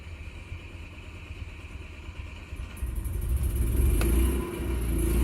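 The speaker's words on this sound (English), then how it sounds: "So I'm going to run the generator" Onboard generator of a 2021 Forest River Sunseeker 2860DS motorhome cranking and catching, a low engine rumble that swells into a steady, louder running drone with a higher whine added partway through.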